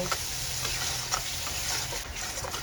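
Chopped tomatoes, green chilies, sauce and spices fry in a pan for egg curry, making a continuous close sizzle broken by soft, irregular stirring scrapes.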